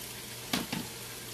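Garlic drops into a hot pan and gives off a short, close sizzle in two quick bursts over a low, steady background frying hiss.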